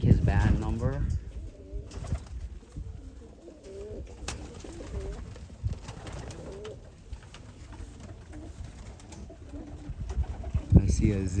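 Banded racing pigeons coo softly in a loft, low rhythmic cooing repeated through the stretch, with people talking nearby and occasional handling noises.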